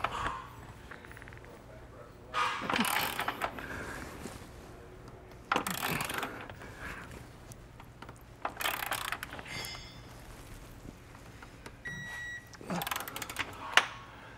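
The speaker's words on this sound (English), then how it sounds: "so I'm gonna put a wrench on the other side real quick." Wrench tightening a large bolt on a Curt trailer hitch being installed on a 2022 Hyundai Palisade, several short bursts of ratcheting clicks separated by pauses over a faint steady background hum.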